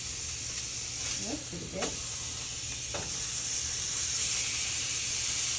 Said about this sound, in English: I'm just searing them a little bit.